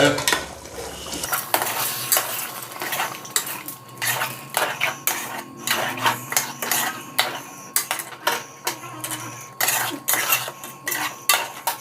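A spoon stirs chicken gravy with yogurt in a metal pot, making near, rhythmic scraping and clinking strokes at a quiet level for about twelve seconds, with no talk.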